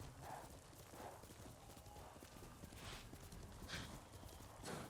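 Horse hooves clip-clop in Ghost of Tsushima, a steady walking rhythm with a horse's snort and whinny over quiet in-game ambience, all fairly faint.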